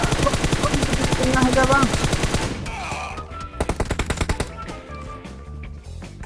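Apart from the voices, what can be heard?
gunfire in video game PUBG Mobile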